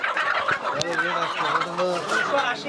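Live Sonali chickens at a market in Ullapara, Sirajganj, clucking and calling in a continuous, close, fairly loud chorus of overlapping fowl voices.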